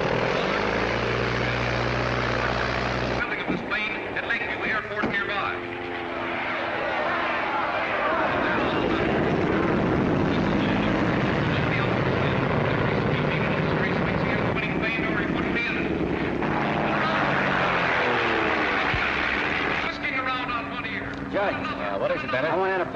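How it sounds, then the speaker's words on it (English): A propeller airplane in a 1937 film takes off and flies, its engine droning loud then shifting in pitch as it passes, with voices talking over parts of it. "Bill's going to fly his own plane."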